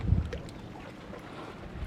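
Sailboat creeping upwind on only its mainsail in a 13-knot breeze, a soft wash of water and wind noise with a brief low thump at the start, steady and fairly faint.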